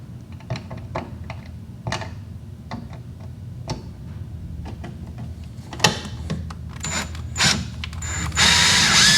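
Screws are driven by hand into a 220-volt four-prong welder outlet, with a run of small ticking ratchet-like clicks close by, then louder metallic handling and a rising rustle at the end.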